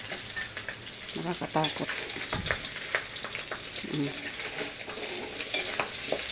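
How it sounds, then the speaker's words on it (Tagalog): Pork sizzling and frying in a pan as its fat renders out for Filipino adobo, a steady crackling hiss with occasional stirring clatter, close and loud, with a few brief spoken words over it. "hayaan muna natin siya, guys, na lumabas talaga yung mantika niya bago natin timplahan"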